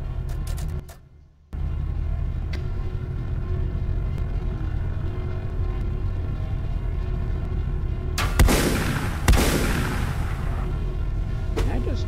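Turrets on a ship in the game Volcanoids fire in heavy bursts, with dense booming blasts around eight to ten seconds over a steady loud mechanical drone, and a voice is heard briefly.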